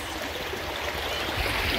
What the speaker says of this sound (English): the water is moving very fast